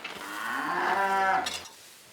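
A Dexter cow, a small cattle breed, gives one long, close, clear moo that rises and fades over about two seconds.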